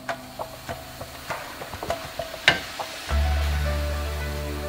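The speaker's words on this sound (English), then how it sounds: "So you come back, say probably every 3 minutes, and stir the chicken until it is properly cooked." Chicken frying in a pan for a cream chicken sauce, with a run of soft scraping stirs and light taps, then a steadier sizzle rising toward the end. Close and fairly quiet, and no one speaks.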